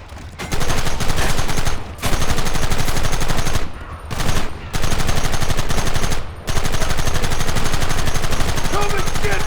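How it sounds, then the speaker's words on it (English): Sustained automatic gunfire rattles loud and close in a combat firefight, with brief pauses between long bursts and shouted voices mixed into the din. "Open fire!"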